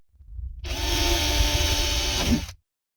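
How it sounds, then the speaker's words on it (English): Power drill boring small holes into a boat bulkhead, one steady high-pitched whining run of about two seconds, loud and close, winding down at the end with no talk. "I drilled few holes"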